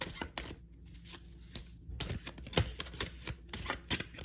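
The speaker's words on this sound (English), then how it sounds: "bear with me and my very close-up shuffling" Tarot cards are riffled and shuffled very close to the microphone, a soft continuous flutter with crisp slaps and rustles.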